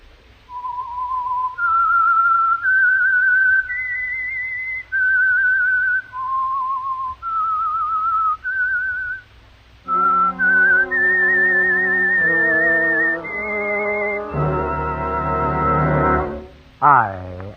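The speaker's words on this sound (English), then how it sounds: "That whistle is your signal," The whistled theme of the 1949 radio show The Whistler: sustained, wavering notes stepping up and down, then a low mournful orchestral swell joins in beneath the whistling.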